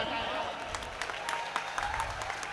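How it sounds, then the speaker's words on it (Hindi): Applause rises from the audience at a Hindi comic poetry gathering, a sustained patter of clapping with sharper individual claps scattered through it, moderately distant. "और तालियां तुम इस बात पे बजा देना"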